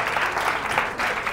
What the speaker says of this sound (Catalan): li fem un aplaudiment